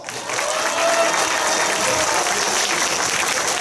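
A large crowd at a school concert claps loudly and evenly, forming a dense, sustained wash of applause with no pauses.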